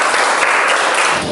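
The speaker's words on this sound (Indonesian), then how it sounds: "Tepuk tangan untuk Mas Hafiz." A classroom of students claps together for a classmate, a dense, loud burst of applause filling the short moment with no talking.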